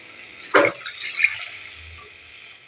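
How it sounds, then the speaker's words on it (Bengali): Water is poured into a pan of frying spice paste, giving a short splashing gush near the start followed by a faint hiss and trickle, close and alone without speech. "আমি জল দিয়ে দেব"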